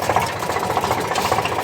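A tractor engine runs close up with a steady, throbbing low chug and a fast rhythmic knock, heard from on board the tractor with no talk over it.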